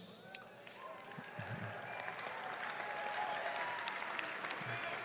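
A commencement ceremony audience's cheering section breaks into applause, steady clapping with scattered whoops that builds and holds for several seconds, moderately distant in a large hall.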